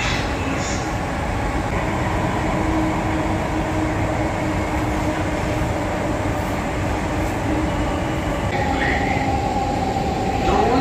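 Mumbai Metro Aqua Line train running through a tunnel, a loud, unbroken rumble of wheels and air heard from inside the carriage, with a faint wheel squeal near the end.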